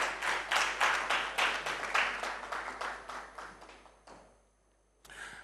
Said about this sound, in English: With a round of applause, let's welcome George Owusu-Ansah